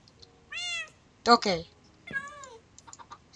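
A house cat meows twice, clear and nearby, with a person speaking a brief word between the meows and light tapping clicks at the end.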